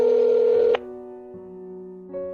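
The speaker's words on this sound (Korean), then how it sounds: "여자는 키패드를 열어 1366으로 전화를 건다" Phone keypad tones dialing 1366: one long touch-tone followed by a short silence, then two shorter steady tones, clean and close with no voices.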